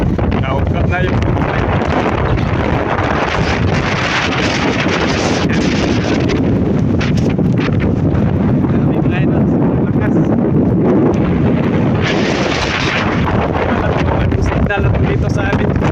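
Strong typhoon Uwan winds roar continuously and loudly, buffeting the microphone with dense, unbroken rushing noise and occasional gusting swells throughout.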